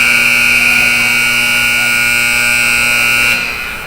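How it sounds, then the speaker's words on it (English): At the end of an ice hockey game at an arena, the final buzzer blares as one loud, sustained electronic tone for over three seconds. It then cuts off and leaves fading arena ambience. "And the final buzzer goes"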